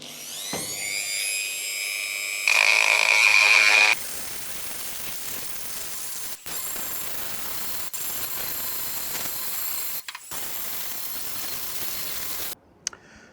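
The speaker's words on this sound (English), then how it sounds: "So we've now run the die grinder around it" A die grinder chamfering the weld around a lounge roof hatch gives a high, steady whine that rises to a louder, harsher burst for a second or two, then settles into a quieter continuous hum.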